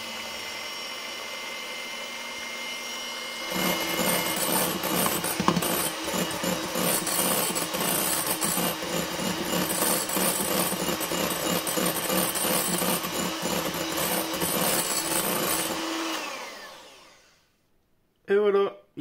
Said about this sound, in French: On prend un petit batteur classique et on est parti. Jusqu'à temps qu'il soit bien ferme.